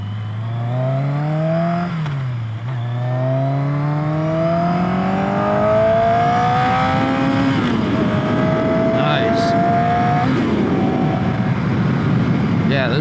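A Yamaha Maxim 700 four-cylinder cruiser motorcycle revs hard through its gears, the engine tone rising in long climbing sweeps with brief drops at shifts, loud and close, with wind noise and occasional talk underneath.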